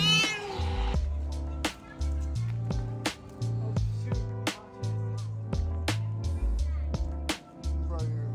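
A cat meows loudly and repeatedly in short, insistent bursts, close by, with a low steady hum underneath.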